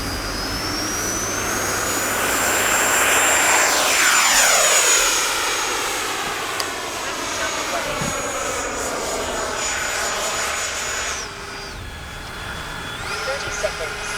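Radio-controlled YAK-130 model jet taking off at dawn: a loud, high turbine whine that rises and sweeps in pitch as the jet passes close, then continues as a steady whine at a distance.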